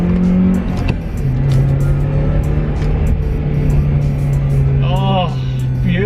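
Honda CL7 Type R with an upgraded short-ratio gearbox, LSD and 4.7 final drive, driving with a loud, steady engine drone from inside the car. It shifts and revs again near the end, and a voice talks over it.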